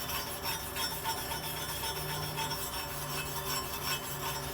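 A welded steel plate is cleaned after vertical flux core welding, with a steady scraping, rasping rub of a wire brush on metal going on continuously, close by and with no talk.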